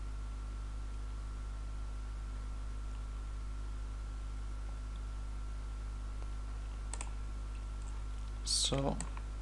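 Brief computer mouse clicks in PLAXIS 3D software, a quick faint tick followed by a short cluster of louder clicks near the end, over a steady electrical hum and hiss.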